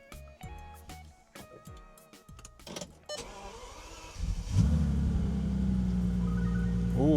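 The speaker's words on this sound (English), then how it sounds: "Now that we've got it all in, let's start the car up." Mechanical clicks and whirring give way to a Bentley Continental GT engine cranking and catching after being completely dead, settling into a loud, steady idle rumble.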